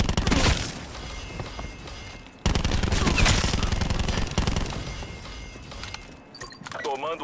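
Dense automatic gunfire in Call of Duty rattles in rapid bursts, loud and close, with a brief pause midway and clicking, jangling gear sounds near the end as a voice talks over it.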